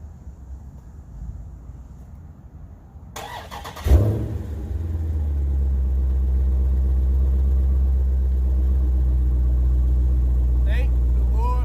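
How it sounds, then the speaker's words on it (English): A Dodge Challenger Scat Pack V8 cranks and fires up after a quiet moment, settling into a loud, deep, steady idle rumble that continues to the end, with someone talking before it starts. "I'm gonna review this one with the car running, because who don't want to hear a big V8?"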